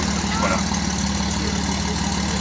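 A 2.7 litre car engine idles through its standard exhaust, a steady low rumble holding evenly for the whole stretch, close by and fairly loud with a faint murmur of voices under it.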